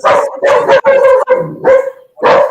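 A dog barks close and loud in a series of about five sharp, yelping barks with brief gaps between them, heard alone indoors.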